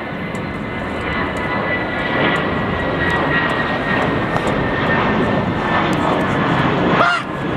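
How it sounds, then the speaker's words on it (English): An airplane flies over near Heathrow with a loud, steady engine roar that swells and holds throughout. A faint honk sounds near the end. "There's a plane coming."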